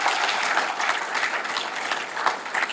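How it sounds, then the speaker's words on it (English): Audience applause for police officers at a Westland Police Department awards ceremony, a dense steady round of clapping from a full room, loud and sustained throughout with no voices over it. "I think we deserve to give their officers a big round of applause for that."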